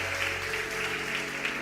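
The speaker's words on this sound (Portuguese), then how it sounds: "Dá uma salva de palmas aqui para eles." Applause rolls steadily from a church congregation during a service, sustained and fairly even for under two seconds, with no voices over it.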